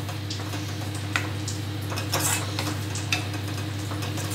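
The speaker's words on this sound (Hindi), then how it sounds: "इसको हल्का ब्राउन ब्राउन होने तक मैं इसे भूनूंगी" A spoon stirs and scrapes flour (atta) roasting in a pan, with soft continuous scraping and a few sharp clinks against the metal over a steady low hum.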